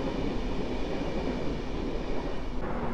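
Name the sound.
Griffin EU160 electric locomotive train passing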